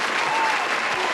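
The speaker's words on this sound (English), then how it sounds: "Insert clapping sound here." Applause sound effect of a crowd clapping steadily, a dense continuous patter dropped into a podcast conversation, loud and alone without talk.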